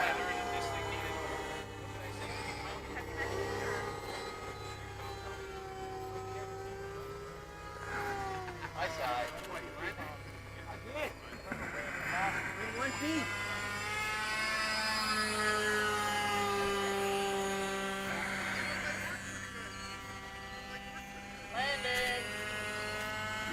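A radio-controlled model float plane flies in to land at a float fly, its small engine giving a steady buzzing drone with rising and falling pitch as it passes, present throughout over light outdoor background noise.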